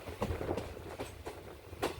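A Kollam–Alappuzha passenger train runs along the line, with rhythmic periodic wheel clacks and steady low rumble, moderately loud and close, no talk.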